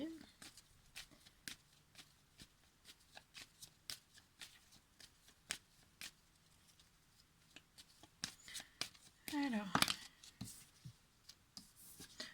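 Tarot cards are shuffled in a quiet room, a series of soft, sharp riffles and snaps scattered irregularly, with a denser, louder burst of shuffling near the end, and a voice talking quietly in places.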